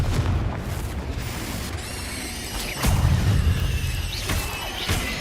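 A Confringo spell blast in the game Hogwarts Legacy, a loud booming explosion with crackling debris, followed by further rumbling impacts over continuous low, dense noise.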